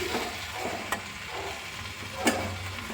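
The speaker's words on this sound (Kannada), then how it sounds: "ಈಗ ಇದನ್ನು ಸ್ವಲ್ಪ ಎಣ್ಣೆಯಲ್ಲೇ ಫ್ರೈ ಮಾಡ್ಕೊಳ್ಳೋಣ." Mushrooms fry in a little oil over medium heat, a soft, faint sizzle with occasional sharp stirring clicks, close and without voices.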